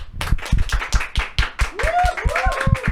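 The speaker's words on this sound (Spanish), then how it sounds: "Despedimos a Irving Villegas con un fuerte aplauso." Studio audience of a Catholic talk program clapping in steady, fairly close claps, with a brief voice or whistle-like tone rising in the middle of the round.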